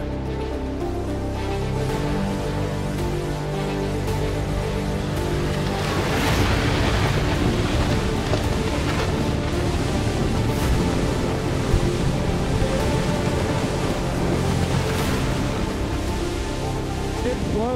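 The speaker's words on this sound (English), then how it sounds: "I get 50-mile-an-hour winds." Strong Atlantic wind on the Azores, around 50 miles an hour, roaring steadily and loudly against the microphone, with gusty broadband buffeting and a surf-like rush throughout, and no voices.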